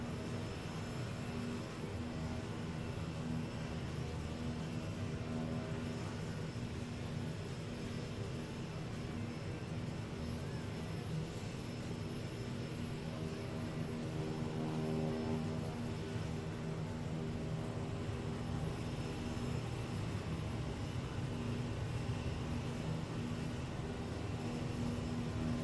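Kodiak K100 turboprop engine in a flight simulator game, a steady droning hum with a constant whine while taxiing, unchanging and fairly loud throughout with no talk.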